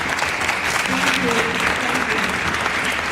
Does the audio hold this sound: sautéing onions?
no